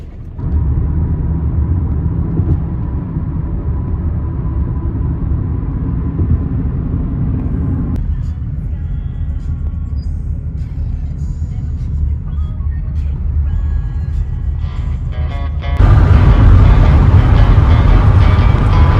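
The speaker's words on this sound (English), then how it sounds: "Had to rent a U-Haul truck to get this furniture home." A rented U-Haul truck drives along the road, a steady loud engine and road rumble throughout, with a shift in tone partway and a louder surge near the end.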